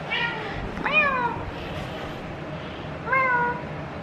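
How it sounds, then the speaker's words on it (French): A cat meows twice, two clear drawn-out cries about two seconds apart, close and loud over a quiet room background, with no talking. "Miaou!"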